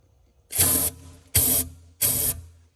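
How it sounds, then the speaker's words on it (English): Carburetor cleaner sprayed into the EGR port of a 1999 Ford Escort: three sharp hissing bursts, each roughly a third of a second long, with short pauses between them, close and loud. "I'm going to take some carburetor cleaner, just some plain old garden variety carburetor cleaner, and I'm going to shoot it in there"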